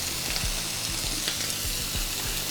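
Bits of bacon sizzle and crackle steadily in a hot pan, with a constant hiss and small pops close up.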